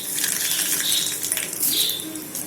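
Mustard seeds crackle and spit in hot oil while tempering a Tamil kambu (pearl millet) chutney, a steady bright sizzle with scattered popping ticks, close and moderately loud.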